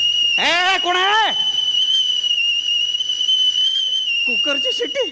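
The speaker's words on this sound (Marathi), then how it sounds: "कुकरची शिट्टी." A pressure cooker whistle sounds as a steady high-pitched tone running through the whole stretch, with a person's voice rising over it at the start and again near the end on a comedy stage.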